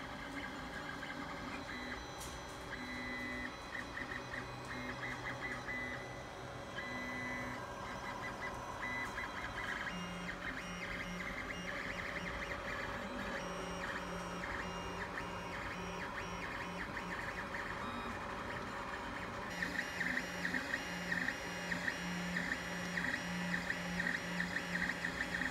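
Creality Ender 5 Plus 3D printer running a test print, its stepper motors giving a continuous whirring and shifting pitched tones that change in rhythm throughout, steady and fairly quiet with no talking.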